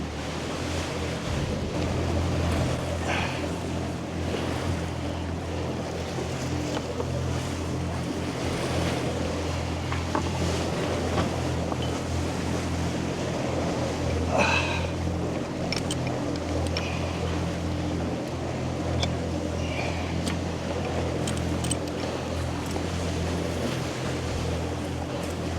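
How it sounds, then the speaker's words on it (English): The catamaran sailboat ARGO motors out toward deeper water on both engines, a steady low engine hum running the whole time beneath wind buffeting and the wash of water, with a few faint knocks and clicks. "Now we've got both engines forward, and we'll just ease our way out into deeper water."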